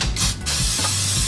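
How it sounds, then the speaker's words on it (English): Cooking spray hisses into a preheated pan in short close bursts, a sharp spray broken by brief pauses over about a second. "I've got my preheated pan here and I'm gonna use just a little bit of spray"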